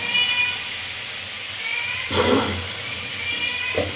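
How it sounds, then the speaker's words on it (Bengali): Cubed potatoes and kohlrabi fry in oil in a pan, a soft continuous sizzle and hiss with a couple of brief louder crackling bursts as the pieces shift. "আলু আর ওলকপি এবার ভালো করে ভাজা ভাজা হবে।"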